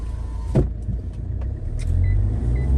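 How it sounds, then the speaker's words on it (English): Power windows of a Mahindra XUV500 rolling up inside the car, a steady low motor hum with a few faint clicks, close and fairly quiet, with no talk. "let's roll up the windows"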